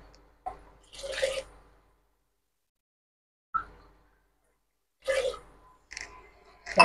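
Water is poured from a cup into a pot of rice in a home kitchen, several short separate splashes and trickles with quiet pauses in between, close and clear.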